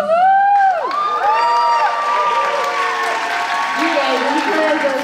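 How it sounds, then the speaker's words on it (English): An audience at a theatre musical finale curtain call claps and cheers loudly and continuously, with high whoops and children's shouts rising over the sustained applause. "You guys inspired us with all your cheers, all your claps"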